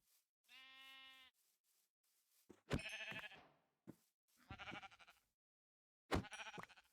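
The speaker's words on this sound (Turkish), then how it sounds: "Aha koyunlar." Several short sheep bleats in Minecraft, clear and close, with quiet pauses between them and no talking.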